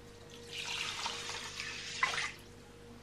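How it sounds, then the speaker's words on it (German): Water pours from a tap into a vessel, a steady close splashing stream for about two seconds that ends with a short gurgle, followed by a sharp knock at the very end. "Wasser kommt rein."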